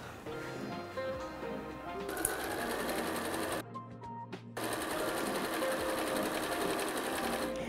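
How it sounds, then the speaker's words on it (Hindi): A sewing machine stitches quarter-inch seams on quilted hot pads, a fast, steady mechanical whir that pauses briefly midway and then resumes, running close and moderately loud with faint background noise. "लाइन के दोनों तरफ क्वार्टर क्वार्टर इंच पे आप सिलाई करेंगे।"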